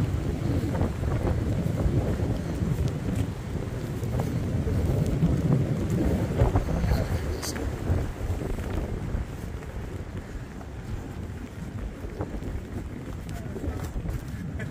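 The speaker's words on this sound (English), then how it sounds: "kind of a blustery day, eh?" Strong gusting wind buffets the microphone outdoors on a blustery day along a hiking trail near a shelter, a loud continuous rumble that swells and eases throughout.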